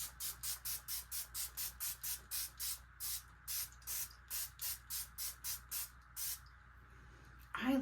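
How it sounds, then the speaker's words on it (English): A pump facial mist bottle sprays in a quick, steady rhythm, around twenty short hissing spritzes in a row, close and fairly soft. "I love a facial spray."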